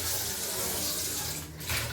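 Tap water runs steadily into a sink while dishes are washed, a close, continuous splashing rush with slight shifts as the flow is interrupted near the end.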